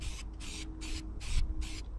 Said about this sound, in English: Now that we've applied two coats of this zinc spray paint to the roof